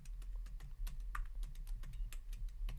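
Steady typing on a computer keyboard while entering text into a shared drive, a fast run of close, even key clicks over a low background hum, with no voices.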